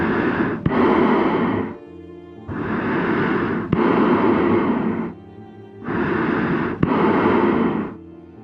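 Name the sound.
exterminator's heavy breathing through mask, Little Nightmares-style video game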